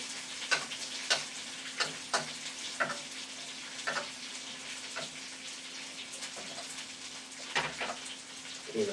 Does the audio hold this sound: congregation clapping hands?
no